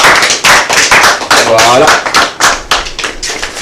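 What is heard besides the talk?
audience applauding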